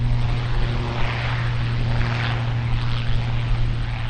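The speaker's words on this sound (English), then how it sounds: "here's the ATR heading off" An ATR turboprop airliner departs Auckland Airport with a steady propeller drone and a humming engine tone, unbroken and moderately loud, with no talking.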